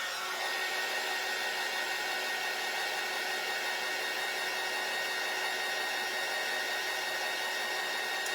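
A hair dryer blows steadily and close up, drying white paint on a decoupage piece with a constant whirring rush that holds for the whole stretch.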